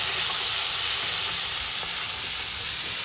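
Steady, dense sizzling of prawns frying in hot oil, close and continuous with no voices.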